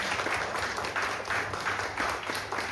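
Audience applause for the producer of a Marathi TV serial at a press launch event, a steady wash of clapping with soft pulsing surges across the short stretch and no talk over it.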